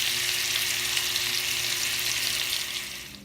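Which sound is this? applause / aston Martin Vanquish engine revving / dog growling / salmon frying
salmon frying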